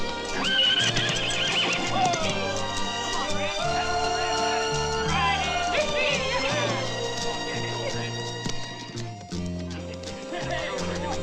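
A horse neighs and whinnies over steady clip-clopping hooves, with music and people shouting mixed in.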